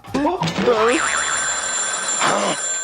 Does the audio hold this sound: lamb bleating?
no